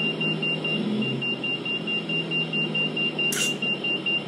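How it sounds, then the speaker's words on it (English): Aircraft cockpit warning alarm, a steady run of regular high-pitched beeps repeating at a quick even pace over a low engine hum, with a brief louder burst of noise partway through. "The plane beeping, you remember the pull up now?"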